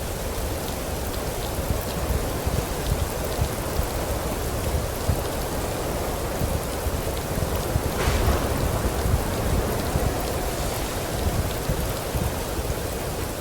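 Steady rain pours in the video game Rising World, a dense continuous hiss with low rumbling beneath and a brief brighter crack near the middle, with no talking.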